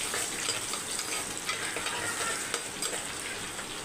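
Garlic cloves and broken dried red chillies frying in hot oil in a pan, a steady close crackling sizzle with faint stirring, no voices.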